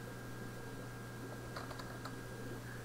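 A few soft, quick keystrokes on a computer keyboard as a password is entered at a Windows 8 command prompt. The clicks are faint and sparse, over a steady electrical hum.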